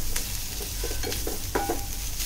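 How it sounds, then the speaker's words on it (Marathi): Whole spices such as cinnamon, fennel and coriander seeds sautéing in a pan, a steady close sizzle broken by scraping strokes of a spatula, with no talk. "छान परतून घेऊया."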